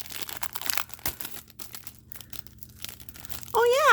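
Stiff release paper from a diamond painting kit crinkles and rustles up close in a steady run of crackles, ending in a louder burst with a voice breaking in at the close.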